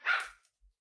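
A small dog gives one sharp, fairly faint bark, followed by a short soft yip, heard alone in a quiet room.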